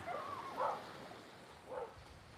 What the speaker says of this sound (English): I'm just giving you some sounds of the sea here and barking dogs.